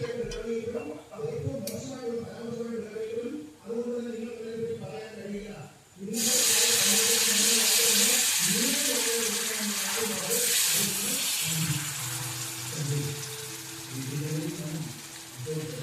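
Boiled water is poured into a hot pan of prawn pickle, setting off a sudden loud sustained hissing rush partway through, while a person talks over it throughout.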